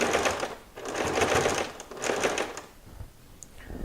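A sewing machine stitches a fabric medical face mask, sounding as two loud, close bursts of rapid mechanical stitching that go forward, then backward, with short pauses and a small click between them.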